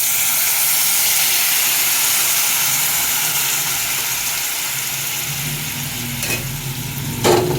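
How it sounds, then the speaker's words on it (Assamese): Continuous hissing and bubbling as hot water is poured into meat cooking in a pot over a wood fire in cold weather, a steady close steam sound with a couple of brief clinks near the end. "এতিয়া মই জলৰ কাৰণে পানীটো দি দিম গৰম পানী"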